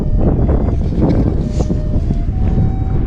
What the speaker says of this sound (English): It's still windy as hell.